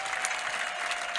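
A church congregation claps together at a prayer service, a brief, dense and even burst of applause filling the room.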